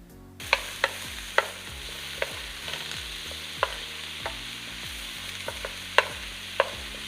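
Mushrooms sautéing with onions and garlic in a pan, a steady close sizzle broken by repeated sharp scraping strokes of a spoon or spatula at an uneven rhythm.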